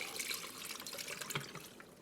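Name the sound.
pouring Coke and jalapeño marinade over pork belly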